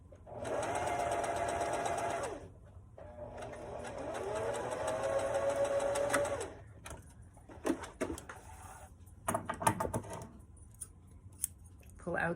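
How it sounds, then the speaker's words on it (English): A sewing machine stitches a seam line on eased or gathered fabric, running in two steady whirring bursts and then reversing to lock the stitch, followed by scattered clicks and handling noises, with a voice heard faintly. "to stitch right on that seam line that we drew on the eased part or the gathered part"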